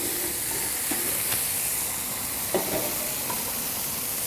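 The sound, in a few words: Wagyu burgers sizzling and searing on a griddle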